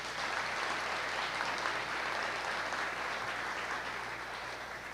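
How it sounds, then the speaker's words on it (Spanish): An audience at an international conference day in Santiago de Cali applauds steadily, a continuous wash of clapping heard from a little distance, fairly faint and even throughout. "Un aplauso para Santiago de Cali."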